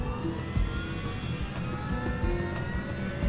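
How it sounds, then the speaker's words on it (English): Aircraft engines spool up during startup, heard from inside the cockpit: a loud, steady roar with a thin whine running through it and no talk over the top. "he records the sound of the engines from inside the cockpit"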